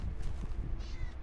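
Cat meowing close by, a brief drawn-out meow over low rumbling room noise.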